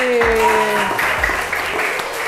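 Steady applause from children at a Quran school prize-giving fills the space, loud and continuous, with a tonal hum running underneath the clapping.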